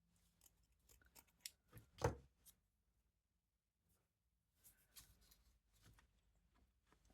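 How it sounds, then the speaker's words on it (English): Scissors trim paper for a junk journal craft, giving a few close, crisp snips in two bursts separated by a quiet pause, faint overall with no talk. "let me trim it."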